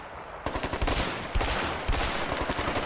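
Rapid gunfire bursts in the co-op prison-escape game A Way Out, with several sharp overlapping volleys over a steady noisy battle backdrop, close and loud.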